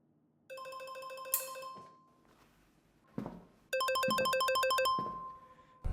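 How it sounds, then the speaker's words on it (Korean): A telephone rings in an office: two bursts of bright electronic ringtone melody separated by a pause, loud and close with no voices. "이때 사무실 구석에서 울리는 전화벨 소리."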